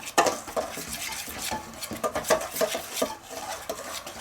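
Flour, baking powder, baking soda and cinnamon get mixed in a bowl with a utensil, making a run of quick scraping taps and clinks against the bowl that repeat unevenly and sit close, with no voices.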